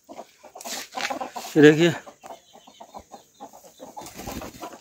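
Aseel chickens in a poultry yard cluck nearby, with a louder burst of clucking standing out in the middle while someone talks over and around them.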